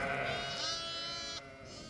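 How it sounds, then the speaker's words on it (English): Jacob sheep on a farm bleat in a long, wavering, nasal cry that holds for most of the moment, close and loud, with a second fainter bleat near the end. "We have 3 different breeds of sheep."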